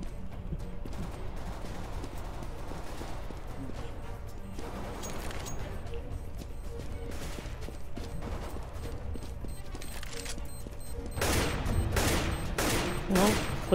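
Gunfire in a Counter-Strike-style video game, scattered distant shots through the first part, then a louder, closer cluster of rapid shots near the end.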